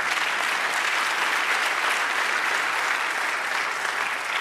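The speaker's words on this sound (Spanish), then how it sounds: "Denle un aplauso al Señor." Steady, dense applause from a church congregation fills the space evenly, a continuous wash of many hands clapping at once with no voices standing out above it.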